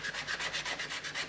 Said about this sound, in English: I'm just going to do a bit of sanding on this stem here.